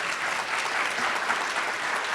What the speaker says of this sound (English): let's give these ladies a huge round of applause